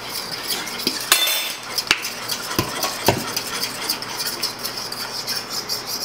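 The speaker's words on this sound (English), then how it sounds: "She is just going to stir the mixture until combined." A utensil stirring chocolate flan cake mixture in a bowl, producing repeated clinks and taps against the side with a soft wet swishing between them, close and with no talking.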